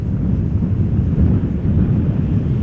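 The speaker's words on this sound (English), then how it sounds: "Nice and comfortable, particularly with the wind blowing." Wind buffets the microphone outdoors at Amsterdam Schiphol Airport, a constant low rumbling roar with no distinct events, heavy and close throughout the short stretch.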